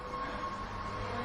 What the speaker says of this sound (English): I can hear a roller coaster going around, but it's possible it could just be Capital Bullet Train next door.